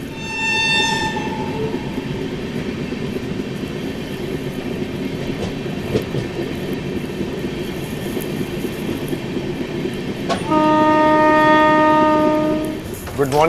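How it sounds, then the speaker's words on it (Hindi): The Marathwada Sampark Kranti Express rolls slowly with a steady low rumble of wheels and carriages, while a horn sounds briefly at the start and again, longer and louder, near the end. "काफ़ी धीमे रफ्तार में हमारी ट्रेन चल रही थी"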